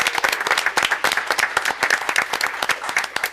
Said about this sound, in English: let's give a nice round of applause to Cub Scout Weeblo Den Pack 220.